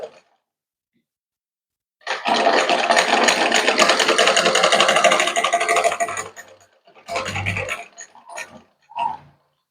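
A sewing machine stitches a blouse neckline at close range. It runs steadily for about four seconds, then gives a few shorter bursts with brief pauses between them. No one speaks.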